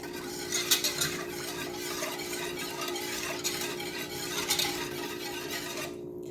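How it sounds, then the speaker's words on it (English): Granulated sugar being whisked into milk, heard as a steady, close swishing with rhythmic scraping strokes against the pot over a low constant hum. "And I'm just going to whisk this in"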